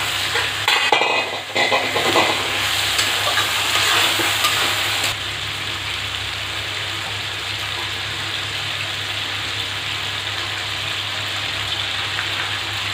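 Marinated mutton for a potato mutton curry hitting a hot pan: a loud, dense sizzle that flares in the first five seconds, then settles into a steady, softer frying hiss, with no talking.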